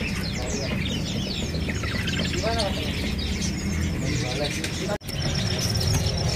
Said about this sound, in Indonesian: Burung kenari AF nih